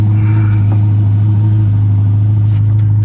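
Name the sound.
Ferrari Roma engine revving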